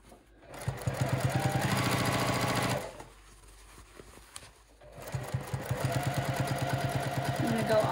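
A sewing machine runs down a pant inseam in two fast bursts of rapid, rhythmic needle chatter, separated by a short pause where the stitching stops, close and fairly loud throughout.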